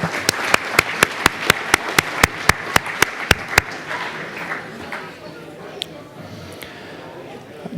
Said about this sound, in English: A round of applause for Josh Clue, please.